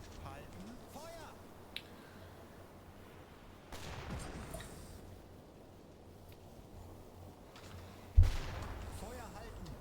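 Shots from a U-boat deck gun in the submarine game UBOAT sound under ongoing voices: a muffled report near the middle, then a sharper, louder crack near the end that decays into rumble.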